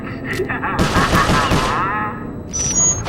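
Gunfire in the Sly Cooper: Thieves in Time final boss battle: a loud, dense volley of rapid shots with clattering impacts, tailing off near the end, with game voices mixed in.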